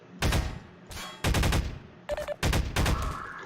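Four loud gunshot bursts from a game in development, each a short sharp blast followed by a brief ringing tail, spaced irregularly and heard alone without talk.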